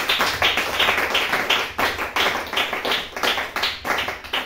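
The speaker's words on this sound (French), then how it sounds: "On acclame le Seigneur" A church congregation applauds the Lord, a dense, steady wash of many hands clapping close by and filling the room without a pause, with no voices rising above it.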